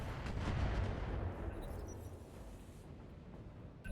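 Missile impacts in the mech combat game RogueTech BattleTech: a loud, dense rumble of explosions that swells early on, then settles into a rolling, gradually fading roar.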